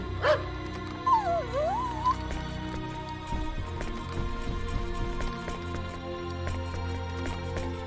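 Dog in Star Ocean: Till the End of Time on PS2 gives a few short yips and a whimpering whine near the start, faint over steady game music with no talk.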